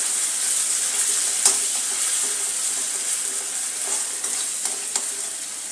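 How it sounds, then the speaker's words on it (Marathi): Chopped onion and one spoon of crushed green chilli sauté in a hot pan, a steady close sizzle with occasional stirring scrapes and clicks, no voices. "आता यात घालणार आहोत हिरव्या मिरचीचा ठेचा, 1 चमचा। आता हाही परतून घेऊया।"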